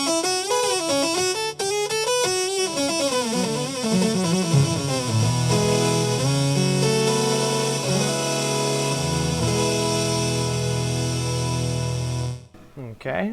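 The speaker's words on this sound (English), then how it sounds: "so a saw wave sounds like that" BOSS SY300 guitar synth set to a saw wave: a bright, buzzy, harmonically rich tone carries a gliding melody, then settles into sustained low notes before stopping abruptly, loud and alone without speech.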